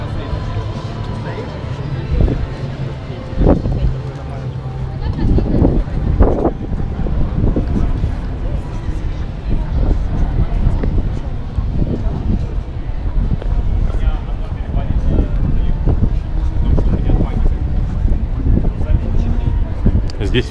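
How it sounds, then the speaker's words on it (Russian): Strong wind buffets the microphone on a city street near Prospekt Mira in central Moscow, a steady low roar that runs throughout with crowd murmur and traffic beneath it. "Здесь ветер сильный."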